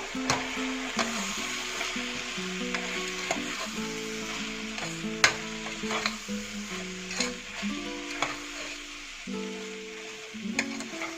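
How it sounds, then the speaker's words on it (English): Soya pulao mixture, a one-pot meal just salted, stirred in a pot with a gentle sizzle beneath, scraping strokes recurring steadily, close and moderately loud over a musical bed of sustained tones and no talk. "And mix it all together"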